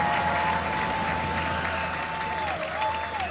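Dense, steady roar of cheering and applause from a packed high school boys basketball crowd at a Central Catholic vs Jesuit game, loud and continuous throughout, with a whistle-like tone running over the noise.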